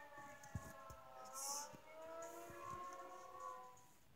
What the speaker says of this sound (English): It was a tornado siren app.